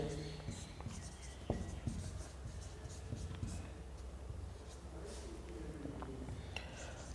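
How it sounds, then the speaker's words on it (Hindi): Chalk or marker writing on a board during a physics lesson on light rays, soft scratchy strokes and taps at close range with faint background noise and a teacher's voice speaking intermittently. "अब यहाँ पर लिखते हैं प्रकाश किरण के लिए"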